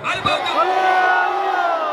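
A crowd at a prayer festival shouts together in a loud, sustained unison cry that swells and holds before trailing off.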